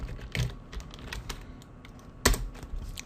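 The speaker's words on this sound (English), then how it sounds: "so I'll type in false here" Quick, light keystrokes on a computer keyboard, a close, quiet run of irregular clicks with a couple of louder taps, no voices.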